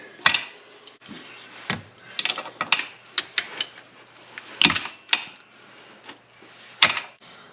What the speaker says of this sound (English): I'm just gonna take out the oil filler bolt.